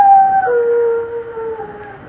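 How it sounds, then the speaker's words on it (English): A dog gives a long, loud, mournful howl that holds steady, dips in pitch partway, then slowly fades, heard alone in an old radio drama setting. "Means someone's going to die when a dog howls like that."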